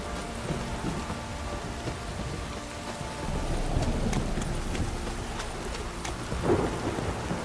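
Steady rain pours across a stormy scene in The Witcher 3 video game, with rumbles of thunder rolling beneath the constant downpour and a louder swell near the end.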